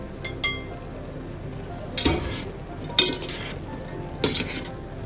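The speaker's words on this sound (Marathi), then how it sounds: "तर आता आपण एकदा ह्याला मिक्स करून घेऊया." Vegetables for Rushichi bhaji being mixed in a covered pot, a spoon clinking against the metal in a few separate sharp scrapes and knocks, fairly close, with quiet gaps between.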